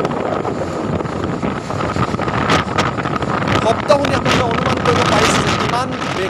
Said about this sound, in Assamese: সেই অঞ্চলটোত বতাহৰ প্ৰভাৱ কিমান আছিল এই দৃশ্যত আপোনালোকে অনুমান কৰিব পাৰিছে